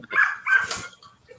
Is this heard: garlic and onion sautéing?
no